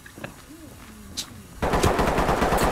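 Automatic weapon fire in the tactical shooter Ready or Not erupts loud and continuous after a quieter stretch of faint game ambience and a few scattered sounds.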